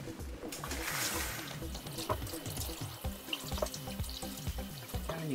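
Asparagus spears washed under a running kitchen tap, a steady splashing stream into the sink with irregular bumps and knocks, close and fairly loud; a voice speaks briefly underneath.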